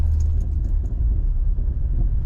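A manual car's engine drones with a deep, steady rumble while the driver downshifts, heard from inside the cabin as a loud, continuous low hum with faint light rattles near the start.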